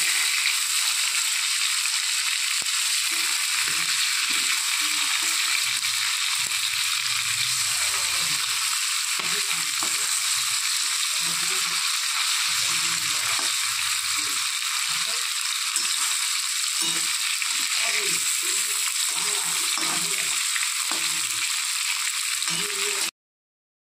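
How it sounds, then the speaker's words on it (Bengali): Hilsa fish pieces frying in oil in a pan, with a continuous bright sizzle and intermittent low rattles and bumps from handling the pan. "এক পাশ ভাজা হয়ে গেছে, আমি একটু উল্টে দেব, আরেক পাশও একটু ভেজে নেব"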